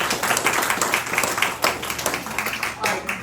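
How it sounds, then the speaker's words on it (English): Audience applause for a sheriff's captain at a community law-school event in Fayette County, Georgia: a dense, steady wash of many hands clapping indoors for several seconds, with no talk over it. "Give Captain Lee a big round of applause."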